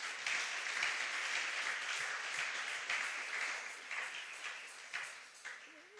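A church congregation applauds and cheers for Jesus during a service, a dense, steady wash of clapping that holds loud for about six seconds and then thins slightly toward the end.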